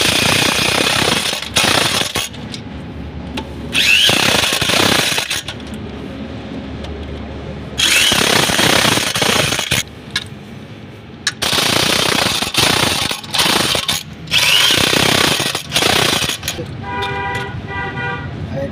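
A power tool tightens bolts during a clutch plate change on a Mahindra Bolero pickup, loud rapid hammering bursts that repeat several times with brief pauses between them, in a workshop with faint voices.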